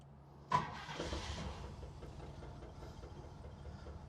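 A Renault Ambassador's 200-horsepower V8 engine cranks and catches with a sharp burst, then settles into a quiet, smooth low idle that fades into the background.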